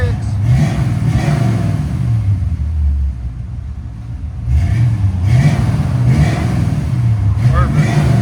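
A 1969 Chevy Chevelle with a 307 V8 and Flowmaster 40 true dual exhaust revs loudly and close, several deep rising bursts of exhaust rumble, with people talking over it.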